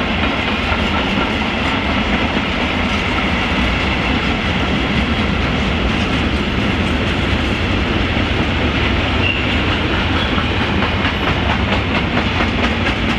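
A train rolls steadily past a station in Gemünden am Main, a loud continuous rumble with rhythmic clickety-clack of wheels over rail joints and faint squealing, no voices.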